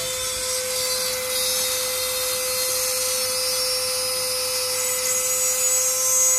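A power drill bores through the metal body of a Kia Rio while an air conditioner is being installed, giving a continuous high, close whine that holds steady for several seconds.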